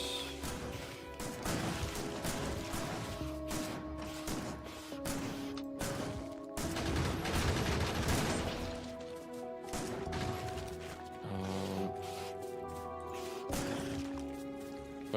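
Gun turrets in Factorio fire at an alien nest, giving dense, rapid bursts of clattering gunfire and crashing impacts that go on steadily throughout with no talking.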